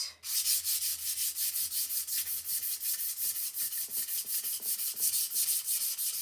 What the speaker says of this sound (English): I like to sand it with a 400 grit sandpaper to smooth it